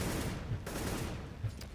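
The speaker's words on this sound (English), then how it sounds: "that's actually some gunfire going in over there with Modi" Distant gunfire in a Counter-Strike: Global Offensive pro match between Mousesports and fnatic at DreamHack Winter 2012, with faint, muffled bursts of shots rattling continuously in the background.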